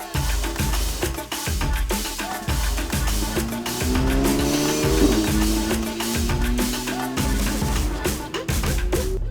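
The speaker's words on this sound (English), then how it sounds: "I'll just drive around the track, talk you through the car as we go" A Porsche 992 GT3 lapping Sydney Motorsport Park, its engine note climbing and dropping repeatedly through the gears, loud and close from inside the car, with a rhythmic thumping underneath.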